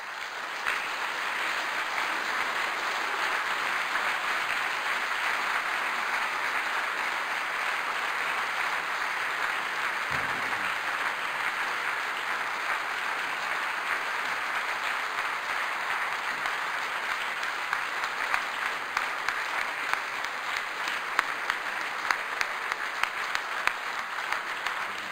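Audience claps steadily after a lecture, an even continuous wash of applause that stays level throughout, with a few louder individual claps standing out toward the end.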